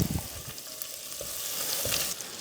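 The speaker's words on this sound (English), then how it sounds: "We're gonna put 5 tablespoons of butter in a hot pan." Five tablespoons of unsalted butter melt in a hot pan with a steady close sizzle, soft crackles and a few light stirring knocks.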